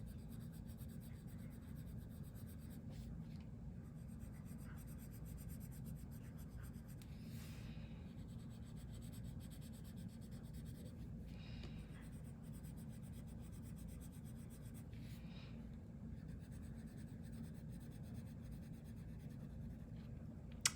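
Pencil shading on paper for a shrink plastic jewelry piece, a faint continuous scratchy rubbing with a few brief stroke accents, quiet and alone.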